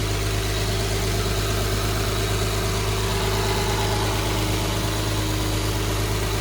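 An Infiniti G35 engine idles close by with a suspected vacuum leak, a loud continuous rumble under a constant broad hissy wash, with no voices.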